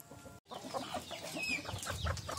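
Several chickens cluck and crow in a busy, close chorus with a brief break early on, birds to be sorted before being cooked into rendang.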